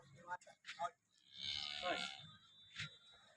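A pregnant cow on a farm in Banaskantha district gives a long low moo in the middle of the clip, with people talking briefly before and after it.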